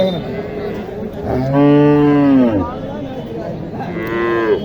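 Two loud, drawn-out moos from a Jersey-type cow (Indian Jersey) at a rural cattle market in Naogaon, the first long and the second shorter, close by with crowd murmur underneath.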